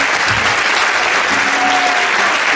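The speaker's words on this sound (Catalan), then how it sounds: "Llavors voldria fer un fort aplaudiments per ells, ja que no han pogut estar aquí." A school audience at a 4th-year ESO graduation musical gives loud, sustained applause, a dense wash of many hands clapping close by, steady from start to finish with no pause.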